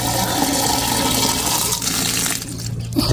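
Rainwater pours out of a bucket onto plants, a loud sustained splashing gush of water that fades and thins toward the end, close by and with no talking over it.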